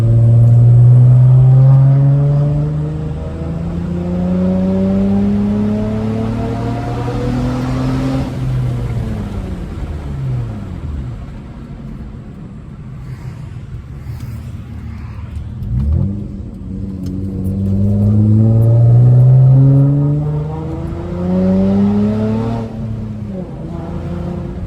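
Straight-piped V6 manual Honda Accord tuned on 91+ fuel, driven through a hometown: a loud, close exhaust rising through the gears in repeated revving pulls, with a lull between them.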